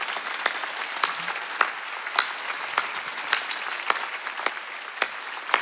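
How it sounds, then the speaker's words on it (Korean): Congregation at a Korean church Wednesday service clapping hard and steadily, a dense wash of applause with sharper claps standing out in a roughly even rhythm, no voices on top. "박수 세게 쳐요."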